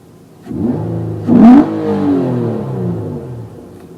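An 8th-generation Nissan Maxima with a stock exhaust and aftermarket intake revs in sport mode: a loud, close engine rises sharply into one quick blip, then holds a steady, slowly falling idle-like drone.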